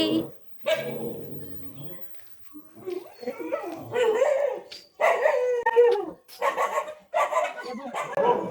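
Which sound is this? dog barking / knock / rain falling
dog barking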